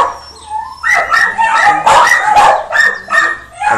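Several dogs barking and yipping in an animal pound, dense overlapping barks, loud and close and continuing throughout, with whimpers among them.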